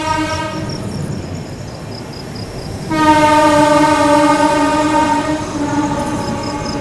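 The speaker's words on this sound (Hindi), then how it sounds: "ये खड़े आप लोगों की बनारस एलटीटी स्पेशल जिसको अपनी सीआर राजधानी एक्सप्रेस ओवरटेक कर रही है गंज बसोदा रेलवे स्टेशन पर।" The CR Rajdhani Express overtakes a standing train at Ganj Basoda station, sounding a loud, sustained multi-tone horn. Steady close rail rumble from the rolling train runs underneath, and the horn grows stronger halfway through.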